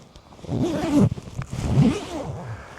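A motorcycle jacket zipper is pulled twice in quick, rasping strokes, close and loud, with a short pause between them.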